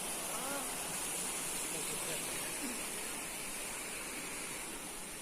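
Waterfall pouring steadily near a hill temple, a broad even hiss of rushing water, continuous and fairly soft, with faint voices beneath it.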